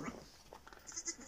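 Faint, brief bleats from Katahdin sheep in a pen during lambing, with newborn lambs present; a few short calls rise over a low, quiet background.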